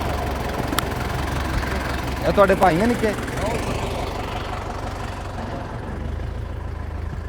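A 1968 model tractor engine idles with a steady, low, rumbling chug throughout, heard close and fairly loud while someone speaks briefly over it.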